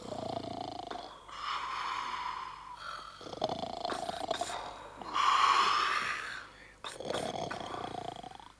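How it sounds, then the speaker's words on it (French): A person snores loudly in a drawn-out, rasping rhythm, each long rumbling breath running a second or two with brief pauses between, close and steady with no talking. "Non, c'est pas possible de ronfler comme ça."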